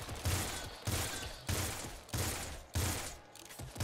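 Repeated bursts of rapid gunfire from the top-down shooter game Nuclear Throne, fired in roughly five loud, evenly spaced volleys with no talk over them.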